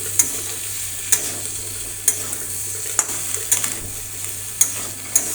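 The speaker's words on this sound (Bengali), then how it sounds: "দেখুন বন্ধুরা, মশলার সঙ্গে আবারও ভালো করে কষিয়ে নিচ্ছি।" Koi fish masala frying with tomato in a pan, a steady bright sizzle punctuated by regular sharp clinks of a spatula stirring against the pan.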